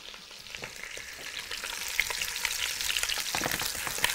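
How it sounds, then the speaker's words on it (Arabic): Onion and beef shank frying together in a pot make a continuous hissing sizzle with dense crackles that grow louder and busier over a few seconds. Close by, with no talking. "هناخد البصل هضيفه هنا، خليه يتحمر مع اللحمه وهي بتتحمر"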